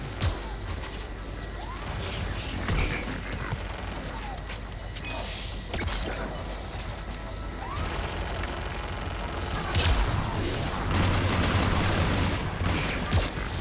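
A missile barrage in a Mass Effect 3 fight, with a steady roar of impacts and crashing blasts, whooshes and rumbling layered over one another, swelling louder toward the end.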